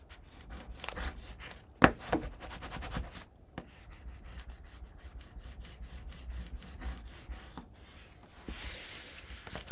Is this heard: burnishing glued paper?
yes